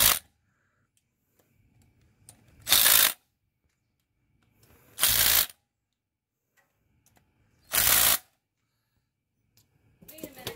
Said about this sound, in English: then I torque it precisely with precision tools.